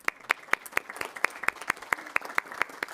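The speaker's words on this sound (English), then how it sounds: "Just a round of applause for everybody." A small group claps at a city council meeting, a sparse round of about a dozen crisp, evenly spaced claps over three seconds, fairly close and moderately loud.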